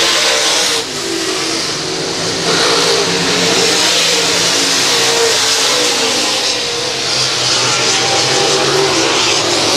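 Dirt track race cars roar around Monett Speedway's oval, a loud, continuous blend of revving engines that swells and fades slightly as the field passes close by, with no talking.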